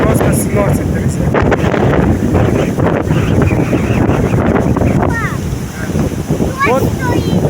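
Strong wind on a stormy, dirty sea with swimming banned, roaring loud and steady into the microphone with broadband buffeting gusts, faint voices and brief calls cutting through near the end.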